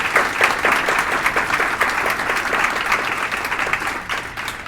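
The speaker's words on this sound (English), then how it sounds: "Can we give them another round of applause?" An audience at a language summit panel discussion claps for the panelists, a close, loud round of applause with distinct, rapid individual claps that carries on for several seconds and eases slightly at the end.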